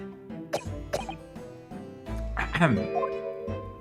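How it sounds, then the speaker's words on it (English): A few harsh, abrupt coughs burst out between musical tones and game sound effects, with a voice speaking briefly amid them. "He's coughing blood."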